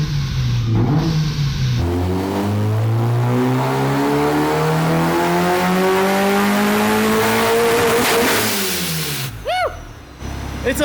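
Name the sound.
supercharged go-kart engine revving on a dyno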